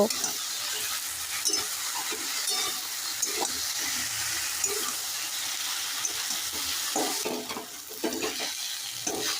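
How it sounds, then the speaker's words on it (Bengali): Okra stir-fried in a pan with onion paste and chili powder gives a steady, close sizzle with scraping stirring strokes throughout, and no one speaks. "পেঁয়াজ বাটাটা ঢাড়সের সাথে খুব ভালো করে নেড়ে চেড়ে ভেজে নিয়েছি"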